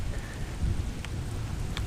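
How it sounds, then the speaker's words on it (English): Heavy rain falls in a steady, dense wash of noise during a wet bike commute, with a low rumble underneath and a few faint brief squeaks, continuous and fairly close throughout. "All this rain, it's crazy."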